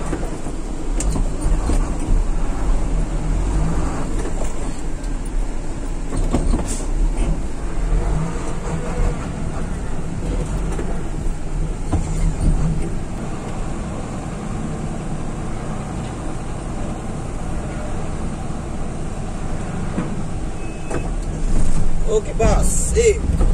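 Mitsubishi Fuso tronton truck idling steadily with a low engine rumble while coal is loaded, a continuous near drone with occasional knocks and shifts, no talk over it.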